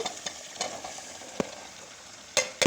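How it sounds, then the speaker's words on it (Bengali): Vegetables hitting a hot pan and frying, a low steady sizzle under a few crisp clinks and scrapes of a utensil, loudest near the end, close and fairly quiet. "এবার আমি এই সবজিগুলো দিয়ে দিচ্ছি"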